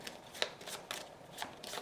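Enemy cards from the Warp's Edge board game being shuffled, a quiet riffling with a few short crisp snaps spread over a couple of seconds, alone without talk.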